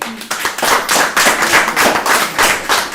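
Applause rises from an audience at a school district committee meeting on curriculum, personnel and policy, a steady wash of many hands clapping loudly for about three seconds with no talking over it.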